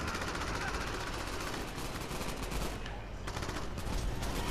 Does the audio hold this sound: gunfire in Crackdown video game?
yes